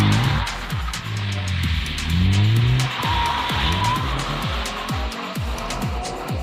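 A BMW drifts around a race track, its engine revving and falling as its tires squeal and skid through the corner, loud and close, with a sharp pop at about the three-second mark.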